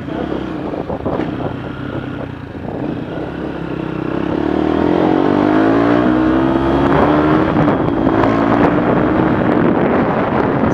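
A motorcycle fitted with a new aftermarket exhaust revs and pulls under acceleration, its engine note rising in a long sweeping pitch over steady wind rush, loud and close throughout.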